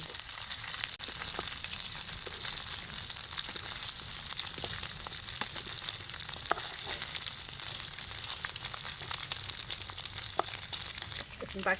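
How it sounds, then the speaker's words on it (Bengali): Small pieces of flour dough frying and being stirred in a little oil in a pan: a steady, bright sizzle runs throughout, dotted with crackles and soft scraping clicks from the stirring. "দেখুন এইভাবে সবগুলোকে আমি নাড়াচাড়া করে ভেজে নেব"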